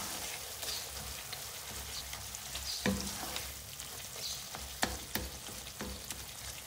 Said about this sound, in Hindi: मिक्स करेंगे इसको, इस तरह से मैश कर दूँगी टमाटरों को मैं। अच्छा सा मसाला बनाना है इसका।